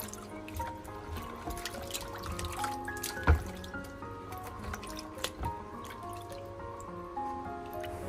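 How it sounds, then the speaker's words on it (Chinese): Food is rinsed by hand in a basin of clean water, with soft sloshing, drips and squishy splashes, including a sharper splash midway, close and fairly quiet with no talk. "再次把它放入清水中多淘洗2遍，直到把里面的水洗至清澈为止。"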